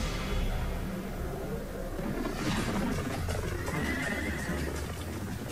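A horse neighing amid a dense, noisy outdoor backdrop, the whinny rising in the middle over constant rumble and clip-clop-like thumps.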